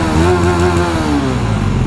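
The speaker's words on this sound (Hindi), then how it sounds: "देखा भाई ड्यूक 250 का एग्जॉस्ट नोट" A KTM Duke 250 motorcycle exhaust holds a loud, steady rev up close, then drops back toward a throbbing idle.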